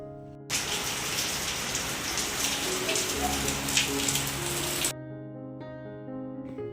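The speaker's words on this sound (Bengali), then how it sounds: "বলতে বলতে দেখো ঝমঝমিয়ে বৃষ্টি আসলো।" Heavy rain pours down in a steady, loud roar that starts abruptly and fills several seconds before cutting off, with a faint tonal background hum remaining.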